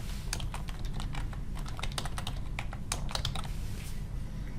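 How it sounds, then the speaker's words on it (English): Quick, irregular bursts of key clicks on a computer keyboard, close and clear over a low steady hum, with no voices. "type in some answer options here"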